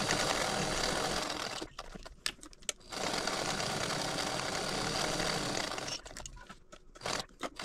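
A sewing machine stitches a small purse stiffened with Peltex, running in steady, close bursts of rapid mechanical whirring separated by short pauses for back stitching.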